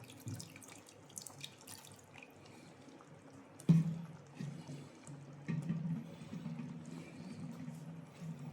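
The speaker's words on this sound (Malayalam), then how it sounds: "ആ വെള്ളം കൂടി ഒഴിച്ചു." Water used to rinse a mixer jar is poured into a dish of ground coconut paste, a soft trickle and splash that rises after a sharp knock.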